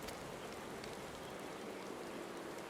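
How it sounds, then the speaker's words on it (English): Rain pours in an outdoor scene of the game Final Fantasy XIV, a dense constant hiss with scattered drop ticks and no one talking. "Are we really having this like out in the rain? It's horrible right now."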